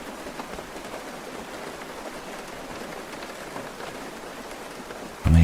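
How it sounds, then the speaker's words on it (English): Rain falling steadily, a soft, even hiss of drops on surfaces that stays close and constant, with a brief louder thump at the very end. "How many places that I have laid my head and listened to that rain."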